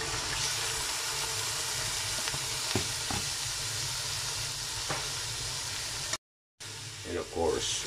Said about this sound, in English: Now we are going to put our pork kidney.